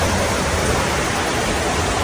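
Heavy rain pours steadily onto a terrace, a loud, dense, unbroken roar of water close by with no voices.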